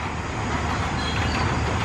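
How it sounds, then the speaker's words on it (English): A steady, loud rumble of a passing train fills the whole stretch, dense and continuous without pauses or voices. "there are trains passing by."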